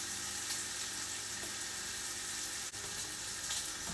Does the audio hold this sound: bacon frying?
yes